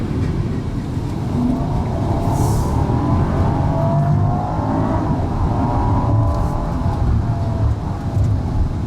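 A 2019 Rolls-Royce Cullinan SUV's twin-turbo V12 engine roars as it accelerates hard, a loud sustained rising drone with rushing wind and road noise, no talking.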